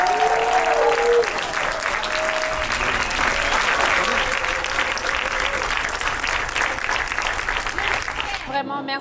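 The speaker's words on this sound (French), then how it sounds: "on s'applaudit." An audience in Montreal claps and cheers loudly and steadily at a film premiere, a dense, sustained wave of applause that carries on throughout and breaks off abruptly at the end.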